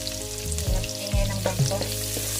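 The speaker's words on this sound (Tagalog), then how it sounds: "Lagyan na natin ang ating bawang." Garlic frying in a pan sizzles steadily and close by while a low hum runs underneath and a few clunks sound nearby.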